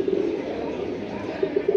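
Lalbag pigeons give soft, low cooing calls, a short run near the start and a few repeated coos toward the end, over a steady murmur of background noise.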